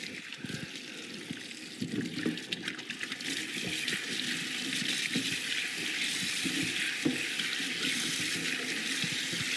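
Tap water runs steadily while produce is washed at an organic farm in New Zealand, a soft continuous splashing stream with faint handling sounds and no speech.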